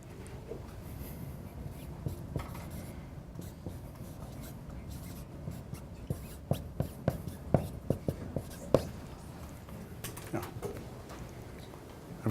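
Faint scratchy tapping of a teacher writing on a classroom board, irregular short strokes growing busier midway, set against a quiet room hum with soft background murmurs.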